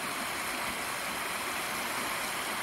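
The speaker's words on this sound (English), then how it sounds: "we recorded some water that was going through some rocks, more like white water" White water rushing through rocks makes a dense, steady broadband hiss and roar, close and continuous with no pauses or voices.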